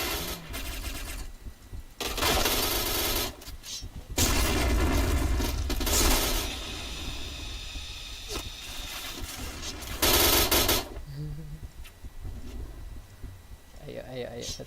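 Gunfire in the Point Blank video game: several loud, rapid automatic bursts separated by short gaps, with a single sharp shot toward the end and a player talking between the volleys.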